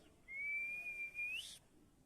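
A person whistles a single sustained note that rises slightly at the end, imitating a sea otter's call. It is clear and close, lasts about a second, and stands alone over quiet background.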